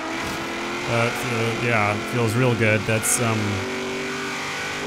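The engine of a 1956 Ford F-100 race truck in Forza Horizon 3 hums steadily and climbs through several revving pulls close up, while someone talks over it.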